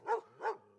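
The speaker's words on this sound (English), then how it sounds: "a loving and familiar bark of your family dog, Quee, as you all kind of round the cart." Two soft, close barks from a family dog named Quee, spaced about a third of a second apart, with a faint low hum continuing after them.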